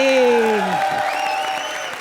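A studio audience at a comedy circus stage show applauds in a steady wash of clapping that runs under a prominent voice and tonal, sliding sounds throughout.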